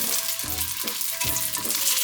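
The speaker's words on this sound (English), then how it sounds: "today we're going to need just that little bit extra to get these all pan fried" Homemade pierogi sizzle and crackle in hot oil in a frying pan, a continuous close frying hiss with a few soft thumps as dumplings are moved.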